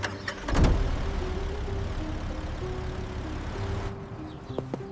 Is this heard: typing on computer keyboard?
no